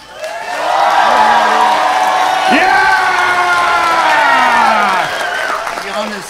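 A comedy club crowd erupts in cheering and whooping with clapping mixed in, loud and sustained for several seconds before easing off slightly at the end.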